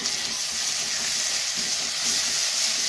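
Ginger garlic paste with chopped onion sizzles steadily in a hot frying pan, a loud, continuous hiss with faint stirring and no talk.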